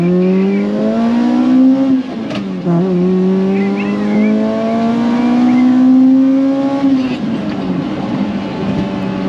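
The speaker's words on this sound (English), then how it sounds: "we're going to do a first and second gear pull into VVTI, into lift, going on the freeway" A Pontiac Vibe GT with a custom stainless exhaust accelerates hard on a freeway, its engine note climbing through first and second gear with a clear drop at each shift, loud and close.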